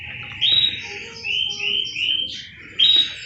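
A pet canary chirps indoors in several bright, high-pitched bursts with short pauses between them, moderately close and clear, with a faint low hum underneath.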